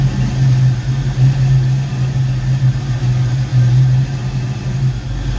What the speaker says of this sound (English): it's idling on its own now